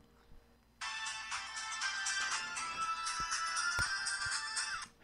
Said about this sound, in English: And there goes my cell phone with this SMS.